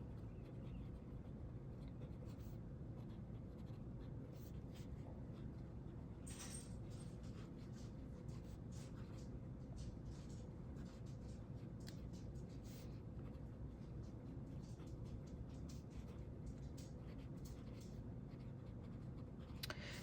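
A TWSBI RG II fountain pen writes on paper in faint, soft nib scratches, steady and close, under a quiet background hiss.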